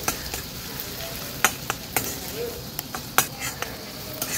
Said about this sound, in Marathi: कांदा व्यवस्थित आपल्याला शिजवून घ्यायचा आहे